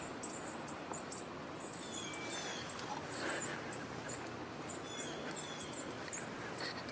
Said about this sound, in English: Sounds like a number of sparrows here vocalizing.